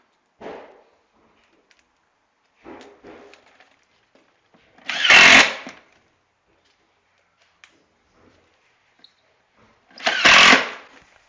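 A power drill drives screws into scrap wood during a kitchen installation, heard as two loud, separate whirring bursts of about a second each, with quieter handling knocks in between.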